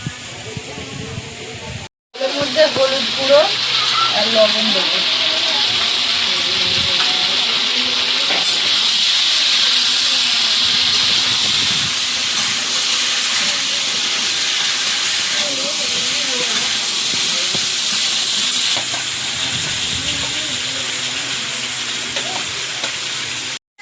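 Food frying steadily in a pan during home cooking in the Sundarbans, a loud continuous sizzle and hiss lasting many seconds after a short gap at the start, with faint background sounds underneath.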